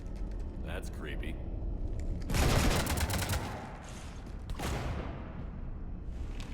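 Gunfire raking a ship in Mass Effect 3, two dense bursts of rapid shots with a roaring wash between them, loud and close, over a low rumbling background.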